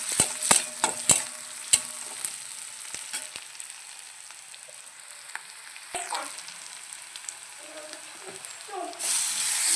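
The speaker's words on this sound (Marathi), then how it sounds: "कांदा पण आपल्याला गोल्डन कलर येऊपर्यंत भाजायचा आहे, म्हणजे सोनेरी कलर येऊपर्यंत भाजायचा आहे इथे" Onion frying with crushed garlic and a little cumin in a pan, a steady faint sizzle broken by sharp spatula clicks and scrapes on the pan, with a brief louder burst near the end.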